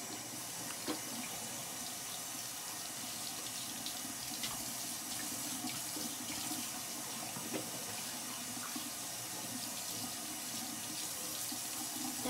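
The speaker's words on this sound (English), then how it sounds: "I like rinse my hands." Tap water runs steadily into a bathroom sink while hands are rinsed under it, a constant close rushing hiss lasting throughout with faint splashing changes and no voices.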